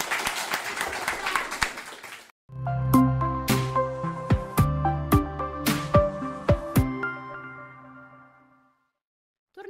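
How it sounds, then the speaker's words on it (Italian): Audience applause for students interviewed in a class 4A school setting: dense clapping for about two seconds, a brief pause, then a loud burst of sharp individual claps and tones fading out. "un bel applauso anche per loro"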